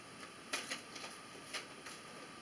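Soft, faint riffling of tarot cards being shuffled, a few quick bursts of papery flicks in a quiet room.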